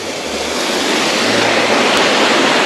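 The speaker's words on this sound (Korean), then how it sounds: "물소리 보세요." Steady rushing water of a mountain stream in Pocheon Valley, Seongju, South Korea, fills the clip, a close, broad wash tumbling over rocks, continuous and loud with no voices.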